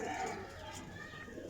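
Pigeons coo softly in a brief low murmur, close but faint, with a voice talking over them.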